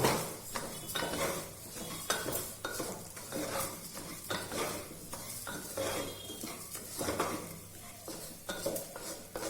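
Food stirred in a metal pan, a spoon scraping and knocking around the pan in steady repeated strokes over a faint sizzle, close and moderately loud throughout with no talking.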